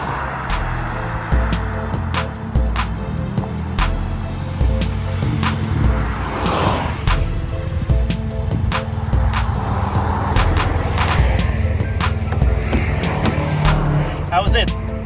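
Nissan Juke Nismo RS in S mode with a twin-tip aftermarket exhaust, heard from the cabin while driving: a loud, sustained engine and exhaust drone with rising and falling revs, road noise and occasional clicks, continuous throughout.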